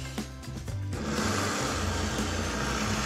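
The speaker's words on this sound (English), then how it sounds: "I'm going to turn the blender on and slowly add in my hot butter to help emulsify the sauce." A kitchen blender runs steadily, whirring as hot melted unsalted butter is slowly poured into a hot sauce with lemon juice, the motor's dense broadband roar starting after a few quiet clicks and holding loud and continuous.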